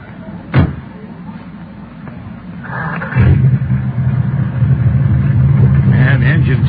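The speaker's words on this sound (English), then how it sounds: "the engine sounds nice" A single door thump comes first, then an old jalopy car engine starts and settles into a steady, close, low idling rumble. Voices are heard along with it.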